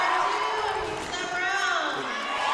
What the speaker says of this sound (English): You can hear the seat section up here.